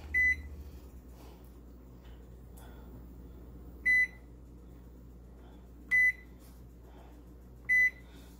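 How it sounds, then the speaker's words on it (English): A kitchen timer is set while chicken cabbage soup simmers, giving four short, clear electronic beeps spaced a few seconds apart over a low, steady appliance hum. "I'm going to set the timer."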